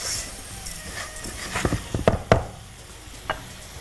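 Orzo pasta stirred in a hot pan with black pepper, a soft sizzle running throughout under a few sharp scrapes and knocks of the spoon around the middle.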